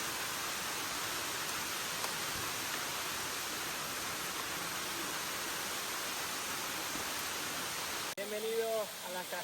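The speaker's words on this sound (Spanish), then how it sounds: "Bienvenidos a las cascadas de Suok." Steady broadband roar of the Suok waterfalls in the mountains of South Korea, loud and continuous, water rushing without pause; near the end it briefly dips and a voice begins speaking over the fall.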